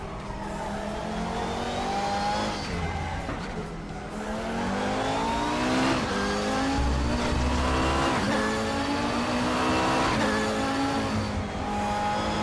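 A race car engine in a racing simulator game revs continuously, rising and falling through gear changes, with brief tire squeal and no talking.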